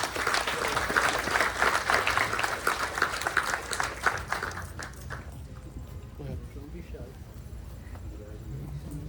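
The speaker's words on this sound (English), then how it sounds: "Please give them a round of applause as well." An audience claps in a round of applause at an outdoor Ramayan in the Park gathering, a loud dense burst that swells for about four seconds and then fades out into quieter background murmur.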